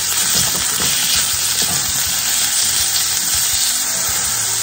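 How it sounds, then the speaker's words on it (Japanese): Yakisoba ingredients stir-fry in rice oil in a pan, giving a loud, steady hiss of sizzling fat with scattered crackles and spatula scrapes throughout. "焼きそばの具材を炒めていきます"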